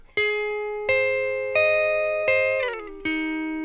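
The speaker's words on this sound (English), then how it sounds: "When we move to the second chord, we hold down the fingers to hear that slide." Electric guitar chords from a song, played with the fingers held down between changes: five ringing strums, with an audible pitch slide between chords just before the last one, clean and up close.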